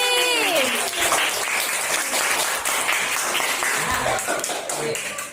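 A classroom audience of primary school pupils claps in a dense, lively round of applause, with some voices and a brief tonal sound near the start.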